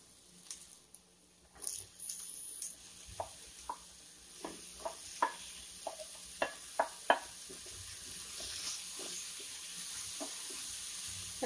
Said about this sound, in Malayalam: ഇതിലേക്ക് ഞാനിനിയും ചീമച്ചക്ക ഇട്ട് കൊടുക്കാൻ പോവുകയാണ്.